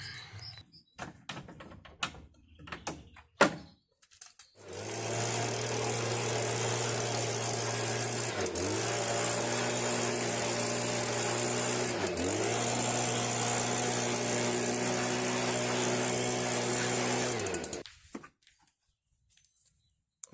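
A Toro Timemaster lawn mower engine, just fitted with a new drive belt, starts up and runs at a steady, loud drone for about twelve seconds, with two brief dips in speed, then cuts off.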